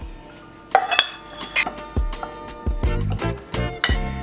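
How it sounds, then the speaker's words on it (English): A fork pokes and breaks apart drained canned tuna in a dish, giving a close series of irregular metallic clinks and scrapes against the container, with no talking. "I use a fork and just poke the inside of the tuna and break the meat apart"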